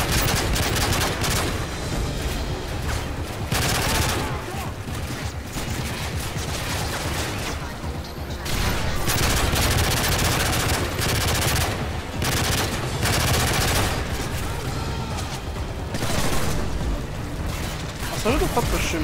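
Heavy gunfire in the video game Modern Warfare 3: loud, rapid automatic bursts and scattered shots roll on almost without pause, with a voice talking over the battle.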